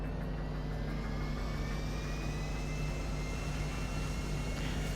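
A private jet cruising in Grand Theft Auto V, a steady continuous engine roar and whine with a slowly rising tone, no voices over it.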